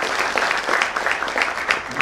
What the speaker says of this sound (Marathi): खरंच त्यासाठी टाळ्या झाल्या पाहिजे.